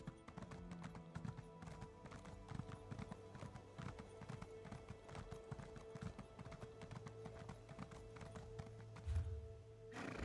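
A horse mount gallops in The Elder Scrolls Online, a steady, fast clip-clop of hooves running throughout over background game music, with a brief whinny near the end.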